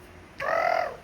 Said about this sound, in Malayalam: ശരിക്കും കാക്ക സൗണ്ട് ഉണ്ടായി.